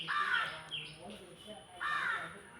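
Crow cawing while eating guava, two loud harsh caws about a second and a half apart, close by, with a quieter bird call between them and a steady high background hum.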